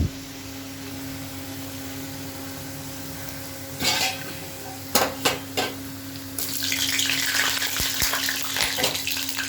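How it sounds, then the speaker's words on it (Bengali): Potatoes fry in oil with a low, steady sizzle, broken by a few sharp clinks and knocks of a utensil, then a louder hissing burst toward the end. "আলুটা ভালো করে ভাজা ভাজা করে নেবো।"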